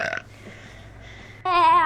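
A woman lets out a single loud, drawn-out burp with a throaty, bubbling tone, close up after a short quiet pause.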